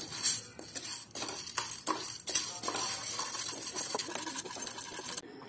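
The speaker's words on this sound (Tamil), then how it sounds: "ஒரு கப் கடலைப்பருப்பை ட்ரை ஃப்ரை பண்ணிக்கலாம்." Chana dal lentils dry-fried and stirred in a pan while making idli podi, giving a steady scraping rattle with repeated clinks of a spatula against metal, fairly close and with no talking.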